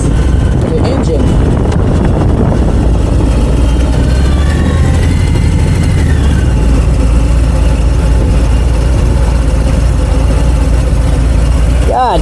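A Harley-Davidson motorcycle engine rumbles steadily during a test ride on a Low Rider S or Heritage, a loud, continuous low drone with wind noise, and people talk over it.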